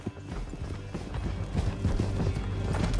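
Steady rhythmic hoofbeats of a galloping horse in Red Dead Redemption 2, continuous and fairly close, with a faint musical or ambient bed underneath.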